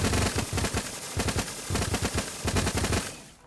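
Rapid bursts of dual-wielded submachine gun fire in a video game, loud and close, firing in quick repeated volleys with brief pauses between them.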